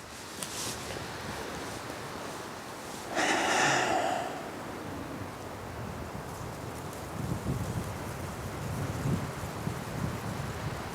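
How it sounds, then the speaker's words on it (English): Strong, very cold wind roars continuously outdoors in a forest, rumbling against the microphone, with a brief sharp breathy gust or snort near the start. "It's really windy."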